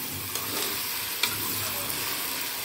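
Okra with green chillies frying in oil, a dense close sizzle with a steady hiss and a few faint clicks of stirring, no voices.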